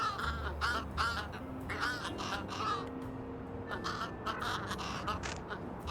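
Crows in the game Little Kitty, Big City give a rapid series of harsh caws and squawks, several birds calling over one another in a busy, continuous chorus.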